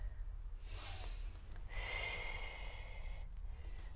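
During a Pilates exercise, two long breaths are pushed out through the nose and mouth, close and airy with a snort-like edge, separated by a brief pause over a low background hum.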